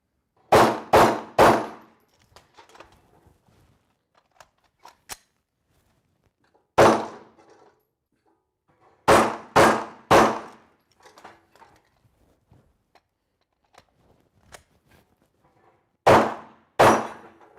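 Handgun shots on a shooting range during one-handed shooting and reloading practice: loud, sharp reports fired in quick groups of two or three, with quiet pauses and faint handling clicks between the strings.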